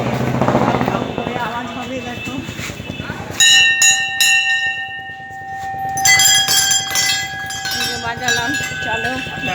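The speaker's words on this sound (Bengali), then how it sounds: "মন্দিরে ঘন্টাটা একটু বাজাই দেখো" A metal temple bell at Gaya cremation ground in Bihar, India, rings in repeated clangs with long ringing tones, following a stretch where a person talks; the clangs grow louder and more frequent.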